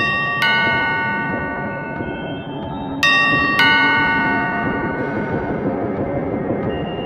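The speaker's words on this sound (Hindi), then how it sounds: "साथ ही कानों में डोरबेल की आवाज़।" A doorbell chimes three times with bright ringing tones that fade slowly, heard over a steady low background rumble.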